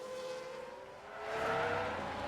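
A race car spinning out in F1 Manager 2022, a steady engine whine sliding in pitch as the car rotates, with tire noise swelling louder toward the end, heard alone at moderate distance.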